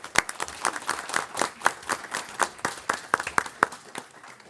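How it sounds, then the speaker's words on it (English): A modest round of applause at a public school board meeting, with scattered individual claps from a smallish group, sounding close and uneven. "Can we pause for a round of applause?"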